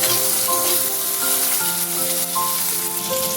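Onions and chopped tomatoes fry together in a pan for a taro root and prawn curry, a steady close sizzle running under background music, with no speech.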